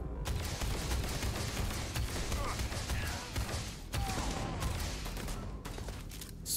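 A Starfield gun fires continuously in a loud, dense barrage of overlapping shots for several seconds, with game noise and a voice underneath.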